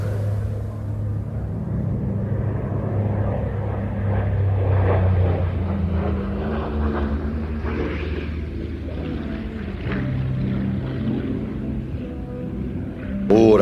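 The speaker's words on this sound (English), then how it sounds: "let's listen to these Pratt & Whitney double Wasp radial engines" Pratt & Whitney R-2800 Double Wasp radial engines of 2,000 horsepower on an A-26 Invader at an air show rumble steadily with a deep propeller drone, swelling slightly through the middle before a brief sharp sound near the end.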